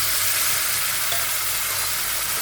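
Spice paste of red chili, tomato and ginger, seasoned with salt and sugar, frying in a pan for dhokar dalna, giving a steady close hiss and sizzle throughout with no talking.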